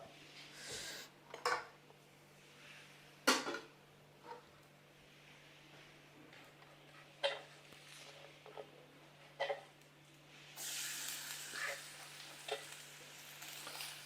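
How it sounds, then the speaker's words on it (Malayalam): Onions temper in hot oil for yellow rice, a soft, faint sizzle with scattered clinks and stirring scrapes, swelling to a louder hiss near the end; no talking. "ഇനി നമുക്ക് വേഗം സവാള ഒന്ന് താളിച്ച് കഴിഞ്ഞിട്ട് അതിലേക്ക് ഇട്ട് കൊടുക്കാം"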